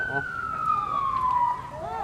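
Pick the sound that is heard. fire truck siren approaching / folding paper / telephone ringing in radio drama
fire truck siren approaching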